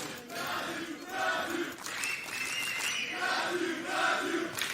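An esports crowd at the ESL Challenger Melbourne Counter-Strike match between Imperial and Vertex roars and chants continuously, a loud, dense wall of cheering that swells and dips in waves throughout.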